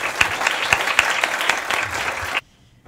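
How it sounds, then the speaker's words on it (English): Audience applause for a panel at a talk on pregnancy and television, a burst of many hands clapping loudly with a few distinct claps, cutting off abruptly into near silence. "Let's give an applause to our first panel"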